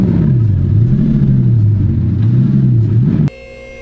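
A Bugatti Chiron creeps indoors at low speed, its engine giving a loud, close, wavering rumble that rises and falls before cutting off sharply near the end.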